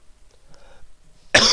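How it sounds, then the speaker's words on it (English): After a stretch of near silence with faint small noises, one sudden loud cough bursts out close to the microphone at the very end. "Sorry, my cough's been getting worse."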